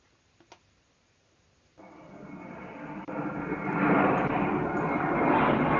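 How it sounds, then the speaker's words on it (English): Alien speech sound effect that resembles an airplane: a rising, roaring whoosh that swells from quiet to loud over several seconds, like a jet engine passing close. "it sounds more like an airplane than alien gibberish."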